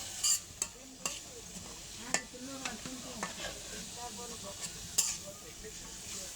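An iron spatula stirs khichuri in a pot, with irregular metallic scrapes and sharp clinks over a low, steady sizzle, close by and unhurried.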